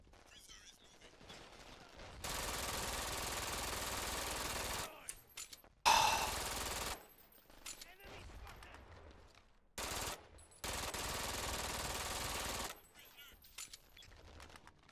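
Automatic gunfire in the shooter game Brink rips out in long, loud sustained bursts with brief pauses between them, interrupted by short gaps and a few single shots.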